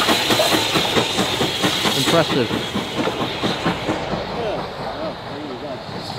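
A train passes nearby with a loud, continuous clattering rumble and hiss, while people talk over it.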